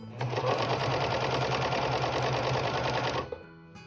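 Sewing machine running a lock stitch along a quilt's double binding, a continuous fast mechanical whir lasting about three seconds up close before it stops abruptly.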